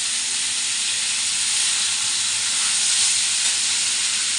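Vegetarian raw jackfruit curry with pre-fried potatoes sizzling in a pan, a loud, steady, bright hiss holding unbroken from start to finish.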